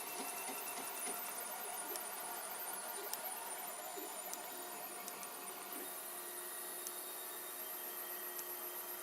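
3D printer running with filament, giving a faint, steady mechanical whir and hum with tiny ticks from its moving parts, continuous and distant-sounding with no talk.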